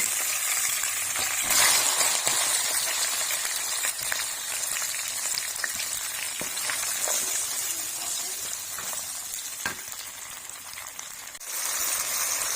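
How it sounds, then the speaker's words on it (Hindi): Chopped onions, tomatoes and green chilies are added to hot oil with cumin seeds for an aloo baigan (eggplant and potato) curry, giving a steady loud sizzle with occasional stirring scrapes throughout. "अब मैंने इस तरह से चॉप किए हुए प्याज, टमाटर, सब्ज़ मिर्चें ऐड कर दी।"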